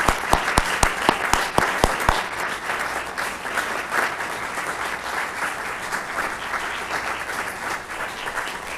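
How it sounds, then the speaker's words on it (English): A room of people at a city council meeting breaks into sustained applause, opening with a few sharp, separate claps before swelling into steady clapping. "Round of applause."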